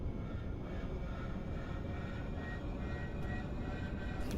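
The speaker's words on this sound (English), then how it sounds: "And you can hear the starter spool up." An aircraft engine starter spools up with a steady, loud, broad whine and rumble that holds evenly throughout, close and alone with no talk.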